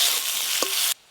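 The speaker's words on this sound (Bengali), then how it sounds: "এই দেখুন ভেন্ডিগুলো একটু ভালো করে ভাজা ভাজা হয়ে গেছে" Soft okra (bhindi) fries in a pan with chili and turmeric powder while being stirred, giving a close, steady sizzle with a brief scrape. The sound then cuts off abruptly.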